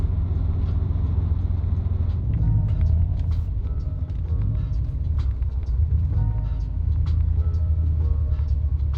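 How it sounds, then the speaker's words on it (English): A car's engine intake gives a continuous low rumble while driving, loud and close, with the engine note rising and falling slightly under steady road noise. "I really hope that the camera's picking up the intake."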